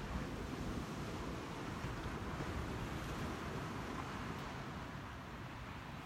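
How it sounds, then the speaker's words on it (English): Ocean surf washing onto a beach at sunrise, a steady broad roar of breaking water mixed with wind buffeting the microphone, continuous and even throughout with no voices. "you've got the sound of the water"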